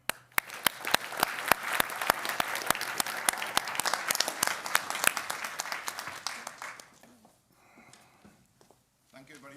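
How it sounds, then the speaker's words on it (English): A conference audience applauds to welcome a keynote speaker, with dense and fairly close clapping in which individual claps stand out. It thins out after about seven seconds, and quieter room sounds follow. "Please join me in giving a very warm applause to Professor Derek"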